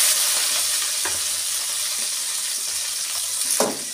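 Chopped onion fries in hot oil in a pan for a paneer curry, a steady close sizzle with a few scrapes and clinks of a stirring spoon against the pan, no talking.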